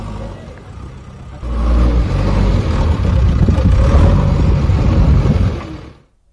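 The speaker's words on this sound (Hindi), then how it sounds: "ताजनगरी में फिर बुलडोजर गरजा है" A heavy bulldozer working on demolition of illegal colonies rumbles with a deep, loud engine drone that surges after a quieter start, holds steady for several seconds, then cuts off abruptly.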